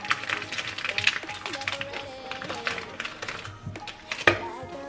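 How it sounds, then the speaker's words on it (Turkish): Repeated knife taps on a cutting board as Turkish sucuk sausage is chopped, uneven and close, mixed with clatter and light background noise. "Evet şimdi sucukları doğruyorum."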